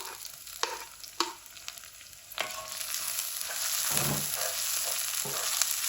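Tomatoes hit a hot pan for a chickpea curry, a few sharp clinks of a utensil early on, then a steady sizzle that swells midway and keeps frying close by, with no talking.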